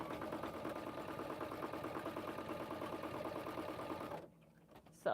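Sewing machine running a bean stitch on a zippered bag project, a steady rapid mechanical chatter for about four seconds, then stopping abruptly with a brief louder knock at the end.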